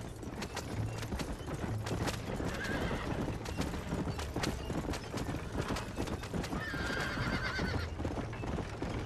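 Horse hooves clip-clop rapidly and continuously in Red Dead Redemption during a horse race, with a couple of loud neighs and whinnies rising over the galloping.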